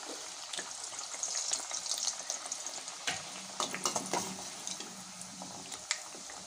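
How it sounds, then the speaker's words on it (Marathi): Rolled puris deep-frying in hot oil for a vegetable thali, a bubbling, crackling sizzle that rises and falls with scattered pops and splashes, moderately loud and continuous. "आपल्या पुऱ्या तळून घेऊया आपण"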